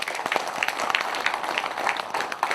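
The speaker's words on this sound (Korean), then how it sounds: "박수 한번 보내주세요" Audience applause at a Korean lawmaker's 2023 constituent policy-report meeting, a moderate crowd clapping steadily with distinct individual claps standing out, fairly quiet and continuous for a few seconds.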